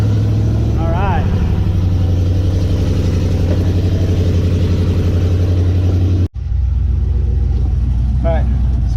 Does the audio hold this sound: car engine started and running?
yes